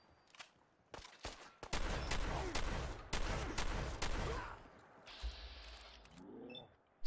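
Shotgun blasts ring out in Fallout 4 during a fight with Rust Devils: a few scattered single shots, then a dense run of heavy booming fire, followed by mechanical clatter and robotic whirring, with no talking.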